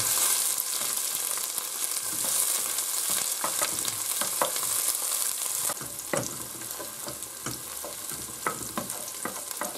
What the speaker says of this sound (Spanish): ahora echamos la cebolla. Y también el ajo.